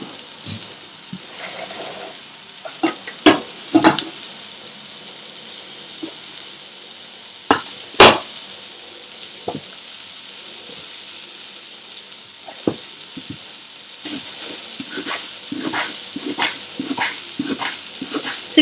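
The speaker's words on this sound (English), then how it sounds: "It's important that you fry the garlic" Garlic and slit green chili fry in a pan with a steady sizzle, broken by sharp clacks of a spoon against the pan and a dog barking a few times in the background.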